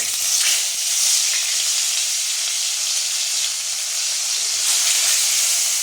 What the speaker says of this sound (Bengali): তেলটা আমার গরম হয়ে গেছে, এবার মাছগুলো আমি একে একে ছেড়ে দেবো